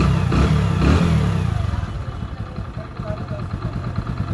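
A Hero Splendor+ i3s motorcycle engine starts and settles into a steady, close idle with a rapid regular putter, following a burst of talk at the start.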